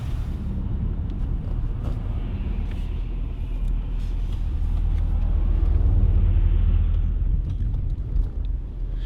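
A supercharged car with a swapped Hemi engine drives along, a heavy low rumble heard from inside the cabin that swells and eases over a steady road roar, with no talking.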